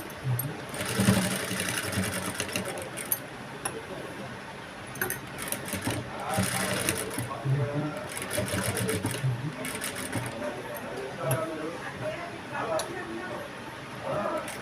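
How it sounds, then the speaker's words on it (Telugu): A sewing machine stitches piping onto a blouse in repeated runs of close, rhythmic whirring, while someone talks over much of the stitching. "నేను స్టిచ్చింగ్ చేస్తున్నాను"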